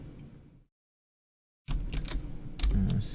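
Computer keyboard keys pressed while modeling in Blender, faint clicks at first, then a full second of silence, followed by a louder cluster of quick taps and key presses close by.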